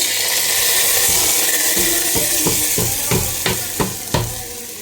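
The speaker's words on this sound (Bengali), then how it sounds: "নেহারি বা পায়ার মধ্যে কিন্তু বাগার দিয়ে ফেলেছি" Garlic tempering in hot oil poured into a pot of nihari crackles with a loud, steady sizzle, then a run of sharp clinks and scrapes from stirring grows more distinct toward the end, with no voices.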